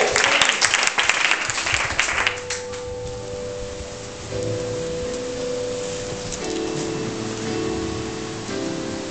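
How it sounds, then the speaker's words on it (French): A church congregation at a revival service in Abidjan claps loudly for a couple of seconds, then the applause fades under sustained keyboard chords and a lingering murmur. "Est-ce que tu peux acclamer Jésus de Nazareth?"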